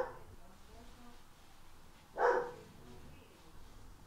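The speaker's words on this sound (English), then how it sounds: "that's my dog in the background" A single short dog bark rings out in the background, sharp and fairly brief, over a quiet room tone.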